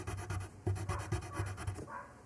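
Several neighborhood dogs barking angrily in a rough, repeated burst, the yaps coming in uneven rhythm from a short distance.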